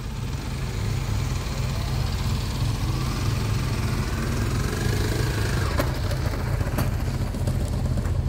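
A motorcycle engine during a first riding lesson runs steadily in third gear, a continuous low droning hum at even loudness throughout, with no talking.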